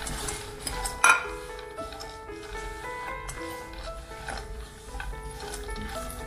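Dry fruits are stirred in hot ghee in a pan for semolina coconut ladoos, producing quiet metal clinks and scraping strokes, with one sharper knock early on and no speech.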